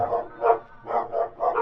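A dog barks in the zombie survival video game Wasteland Bites, giving a series of about five short, close barks in an uneven rhythm over a quiet background, with no talking over them.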